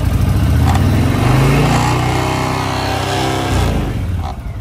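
A 2006 Honda VTX 1300 R motorcycle engine runs steadily up close, a loud, low rumbling idle with a slight rise in revs midway before settling back.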